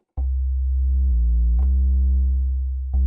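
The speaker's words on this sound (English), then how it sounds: "It's still a big round sub bass, but now we can kind of hear what pitch is going on." A synthesizer sub bass patch with a touch of filter drive plays a round, low sustained tone in separate held notes, each opening with a soft click attack and pitched overtones above the deep fundamental, played alone.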